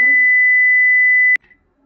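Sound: alarm beep from a Python alarm clock program

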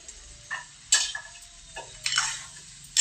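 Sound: cauliflower added to a frying, sizzling curry

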